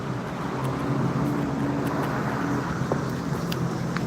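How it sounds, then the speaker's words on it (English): Heavy concrete trucks rolling past on a street lined with gift shops, giving a steady, loud low engine rumble and road noise that continues through the whole stretch, with no talking. "lot of concrete trucks."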